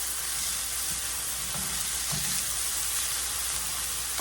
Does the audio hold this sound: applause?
no